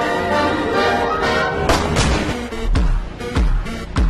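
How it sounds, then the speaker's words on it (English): Sharp gunshot-like bangs ring out over a dense rumbling background, with several loud impacts from the middle onward, each followed by a short decay. "The moment I heard the gunshot,"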